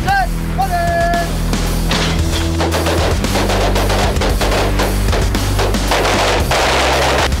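Five heavy shots from an FK Field Pistol crack out in quick succession, loud and close, each blast ringing over a steady background drone.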